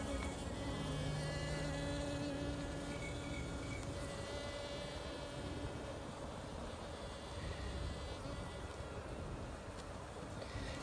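Honey bees swarm around an open hive during a beekeeping inspection, their dense buzzing hum steady and close throughout, with no voices.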